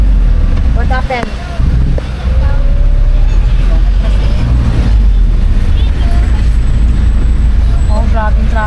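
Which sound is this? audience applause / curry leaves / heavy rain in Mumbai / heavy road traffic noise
heavy road traffic noise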